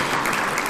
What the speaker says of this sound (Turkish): Alkışı onlara alkış hak ediyorlar.